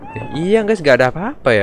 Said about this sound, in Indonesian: Ini kucingnya tidur guys ya, tapi masih meong-meong guys ya